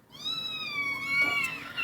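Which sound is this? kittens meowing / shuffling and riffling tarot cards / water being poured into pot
kittens meowing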